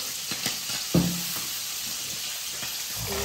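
Fenugreek seeds hitting hot oil in a home kitchen pan, giving a crackling sizzle with a sharp burst near the start and steady frying hiss behind it, fairly close and with no talking.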